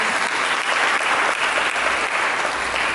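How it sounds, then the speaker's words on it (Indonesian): Church congregation applauding during a sermon, a dense, steady roar of clapping filling the whole stretch at close range with no pauses. "Mari kita berikan tepuk tangan kepada Yesus."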